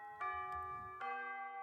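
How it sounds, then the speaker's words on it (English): A video game bell rings in two bright, resonant chimes about a second apart, each ringing on and sustaining clearly. "Yeah, the bell."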